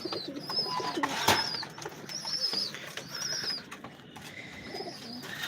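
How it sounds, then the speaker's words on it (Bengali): Imamdin pigeons coo softly inside a home loft, with low repeated calls, thin chirps and a brief flutter of wings heard nearby and without talk. "দেখেন ভিওর্স এটা ইমামদিন কবুতর এই পেয়ারটা সেল হবে"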